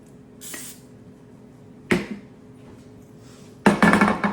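Canola oil cooking spray hisses into the wells of a non-stick pan in three short bursts, the last one the longest and loudest, with quiet kitchen background between.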